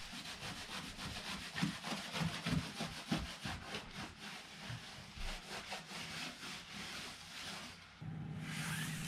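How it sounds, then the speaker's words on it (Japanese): Rhythmic rubbing strokes of a cloth wiping a wooden floor, back and forth in quick repeated swipes, close and fairly quiet. "いつものこの床拭きですね"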